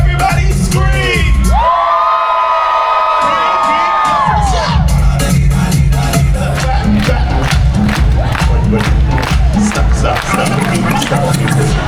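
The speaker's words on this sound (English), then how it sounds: "Now somebody, anybody, everybody scream." A cruise ship crowd screams and cheers loudly at sailaway, a dense roar of shouting and whooping with a sustained high scream near the start and rhythmic clapping running beneath.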